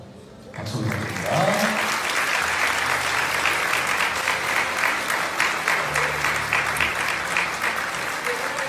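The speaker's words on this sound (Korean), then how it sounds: "신랑 신부 맞춰 박수 부탁드립니다" Wedding guests applaud the bride and groom at the Lee Seung Gi and Lee Da In ceremony, a dense, loud burst of crowd clapping that starts suddenly and holds steady, with a voice talking over the applause.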